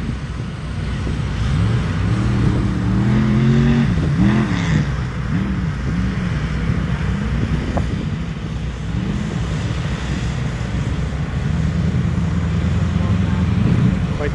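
4x4 jeeps at the Ethel Jeep races in Ethel, Washington, with engines revving and droning steadily through the scene, rising and falling pitch suggesting rigs accelerating on the course amid outdoor crowd noise.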